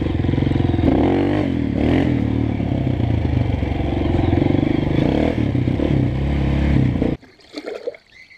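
A Honda CRF 230 dirt bike engine roars loudly and steadily during a wheelie, rising and falling in pitch as it revs, then cuts off abruptly near the end, leaving quiet clatter.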